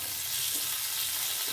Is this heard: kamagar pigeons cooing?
no